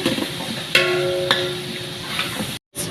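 Ginger-garlic paste for pulao frying in a pan, a steady soft sizzle with a few scraping stirs of the spoon, fairly close and with no talk.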